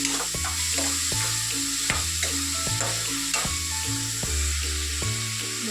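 Finely chopped onions fry in a pan, giving a steady hissing sizzle with regular scraping strokes over a low background hum.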